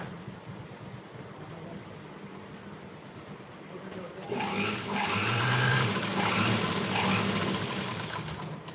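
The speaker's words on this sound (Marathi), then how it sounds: "कपड्याच्या साईडने आता शिलाई मारून घ्यायची" A sewing machine stitches blouse fabric for a princess-cut blouse; quiet at first, then a steady mechanical whirr starts midway and runs on, with a bobbin case fault.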